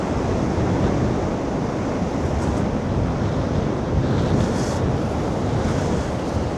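Sea waves and tide surging against the Blackpool sea defence, a steady roar of surf with heavy wind buffeting, loud and continuous throughout.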